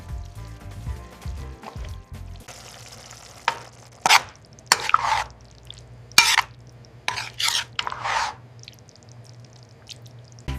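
Onions and beef sizzle softly in a frying pan, with repeated loud scraping and clattering strokes of a utensil stirring the mixture up close.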